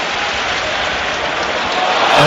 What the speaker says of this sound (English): The crowd urge Liverpool on.